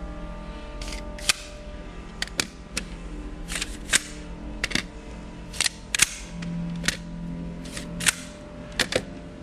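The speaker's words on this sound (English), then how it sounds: "Quickly going from right to left, close the chambers of each one of the guns." Chambers of several nail guns being snapped shut one after another during a stage mentalism act, heard as a series of sharp, close mechanical clicks and clacks at irregular intervals over a quiet room.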